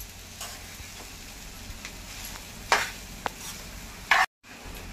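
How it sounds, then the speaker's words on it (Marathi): Sabudana khichdi stir-fried in a pan over medium gas gives a steady low sizzle, broken by occasional sharp scrapes and taps of the spoon against the pan, close by with no talk. "ते पारदर्शक होईपर्यंत आपण ही खिचडी मीडियम गॅसवर परतून घ्यायची"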